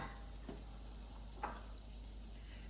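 Butter sizzles softly and steadily in a pan while healthy Swedish meatballs are cooked, a constant quiet frying hiss with two faint clinks or stirs near the start and middle.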